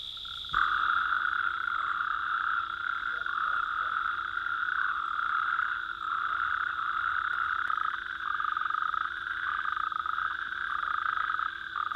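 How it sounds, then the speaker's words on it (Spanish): Common toads calling at night around ponds in Alaska, a dense continuous chorus of trilling croaks held at a steady pitch, loud and close throughout with no speech. "los sapos comunes se reúnen en las charcas y lagunillas para aparearse"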